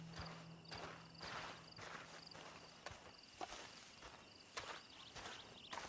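Horse hooves clip-clop at a steady walking pace in Red Dead Redemption 2, a rhythmic series of fairly close, crisp hoofbeats over a faint outdoor background with no talking.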